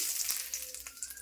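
Bay leaves sizzling in hot oil with cumin seeds, the first tempering for a jackfruit and shrimp curry, giving a brief bright hiss with a couple of small crackles and pops.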